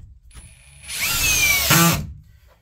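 A drill driver whirs up for about a second, driving a screw into drywall with a rising whine, then stops abruptly; close and loud.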